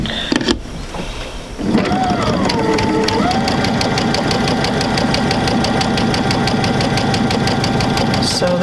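Sewing machine stitching fabric on a quilt sampler, starting after a brief pause with a steady rapid mechanical whir and needle knock that runs continuously and close up.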